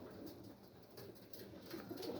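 Soft, low cooing from birds with a steady murmur behind, continuous and fairly quiet throughout, no voices.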